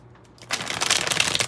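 A 108-card tarot deck is shuffled close up: after a quiet moment, a rapid papery riffle of cards starts and continues steadily.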